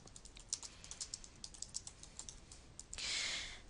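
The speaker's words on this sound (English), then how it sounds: "I'm just going to type in a question and just kind of show you how this works." Keys clatter in a steady run of quiet, close taps on a computer keyboard as a question is typed, ending in a brief louder rustle.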